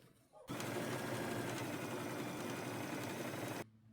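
A sewing machine stitches along the raw edge of a robe in one continuous, close whirring run of about three seconds, starting and stopping abruptly.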